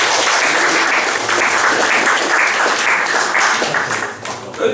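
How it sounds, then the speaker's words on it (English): Loud, dense applause from an audience at a live improv comedy show, steady clapping with crowd noise and some voices mixed in, tapering slightly near the end. "let's give them a round of applause"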